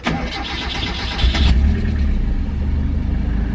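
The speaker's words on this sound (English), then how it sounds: "we're gonna go ahead and see if the car starts" A Mazda Miata engine running MegaSquirt engine management cranks and catches on its initial startup, then settles into a steady, loud idle that rumbles on to the end.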